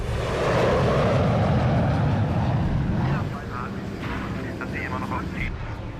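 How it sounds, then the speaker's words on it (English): A Nazi jet plane roars past loudly, a heavy rumbling engine drone that holds for about three seconds before easing into a lower, steadier hum. "It's a goddamn Nazi plane."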